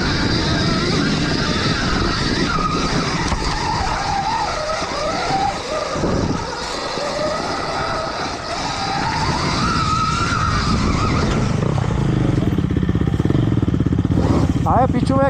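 Dirt motorcycles, including an electric Stark Varg, are ridden on an off-road track, with whining, revving motors and tyre noise rising and falling at close to mid distance, under people talking.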